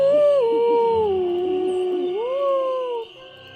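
Ghost dogs howl in the Nancy Drew game Ghost Dogs of Moon Lake, a long, clear, wavering howl that rises and falls alone for about three seconds before stopping.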